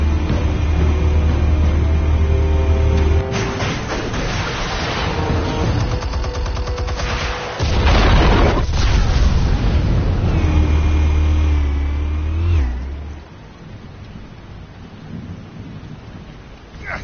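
Deep video game explosions boom and rumble in heavy bursts, with crackling debris and gunfire-like blasts between them, loud and close, fading into a lower rumble near the end.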